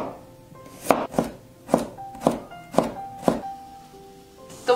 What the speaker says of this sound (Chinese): 胡萝卜切成细丝